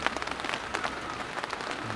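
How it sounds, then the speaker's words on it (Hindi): Morning rain at a deep forest campsite, a steady patter of drops falling on surfaces, soft and continuous throughout with no voices. "सुबह की शुरुआत बारिश से हो रही है"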